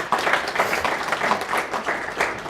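An audience at a policy discussion claps in a sustained round of applause, fairly close and even, with a faint voice underneath.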